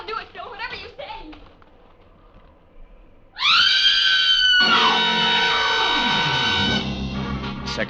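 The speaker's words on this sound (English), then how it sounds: "get over there inside the barn and scream. Long and loud" A woman in a radio drama lets out a long, loud, sustained scream after a stretch of quieter talk, holding it piercingly for several seconds.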